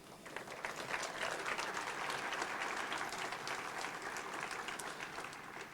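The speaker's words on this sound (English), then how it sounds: "So please, one more round of applause for all of you." Steady, even applause from a roomful of people at a city business appreciation breakfast, a dense continuous patter of many hands clapping at moderate distance, lasting the whole stretch without voices.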